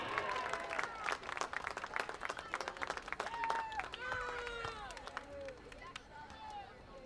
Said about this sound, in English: One last round of applause for our 7th and 8th grade boys teams